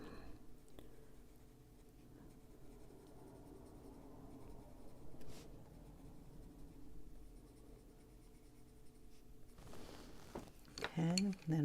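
Brutfuner colored pencils are stroked across paper while coloring, making a soft, continuous scratchy rasp, quiet and close, with a few faint clicks and a louder handling rustle near the end.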